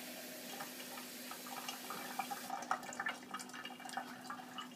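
Hot tap water runs steadily, filling a cup for Chilean pan amasado bread dough, a soft continuous stream with faint splashing that grows slightly busier toward the end, quiet and alone.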